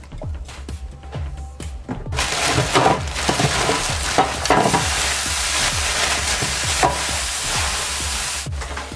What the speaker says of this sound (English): I've got my hot pan from the oven here. I'm going to add about a tablespoon of oil.